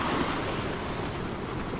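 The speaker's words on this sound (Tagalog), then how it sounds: "Grabe yung alon dito, oh." Strong sea waves converging from several directions in the late afternoon, heard as a loud, steady broadband roar of surf with wind buffeting the microphone throughout and no voices.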